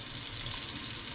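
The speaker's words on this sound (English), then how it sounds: "now we are going to put cold water in here." Tap water runs steadily into a sink, a continuous hissing splash at moderate, even volume with no voices.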